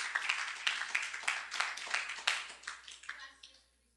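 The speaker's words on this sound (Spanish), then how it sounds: "Dale un aplauso al Señor." A church congregation claps together in a service, a patchy burst of hand claps that swells and then fades out toward the end, with a few voices mixed in.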